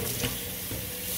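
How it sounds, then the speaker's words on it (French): Hot water splashes and hisses steadily as a container is rinsed, a brief, close, continuous watery rush with no talk. "Donc, je vais rincer mon récipient."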